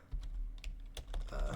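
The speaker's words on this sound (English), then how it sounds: "it's on Google Docs. I started typing in mission" Typing on a computer keyboard in Google Docs: a quick run of close, crisp key clicks in short uneven bursts, moderately loud, with no voices.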